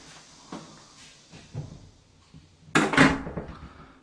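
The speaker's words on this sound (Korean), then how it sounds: "문을 열었다가 닫아보도록 하겠습니다" A door fitted with an adjustable door closer opens and then swings shut. Faint knocks and creaks lead to a louder clunk as it closes.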